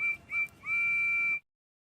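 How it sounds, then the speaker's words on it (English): A faint, high steam-train whistle toots in two short blasts, then one longer held note, thin and distant, ending abruptly in silence. "Then they both heard a faint whistle."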